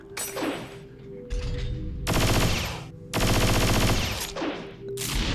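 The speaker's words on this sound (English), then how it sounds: "Yep, Haseo is a dual gunner now." Dual guns fire in rapid automatic bursts in the .hack//G.U. video game, loud dense volleys of game gunfire broken by short pauses, with no talking over them.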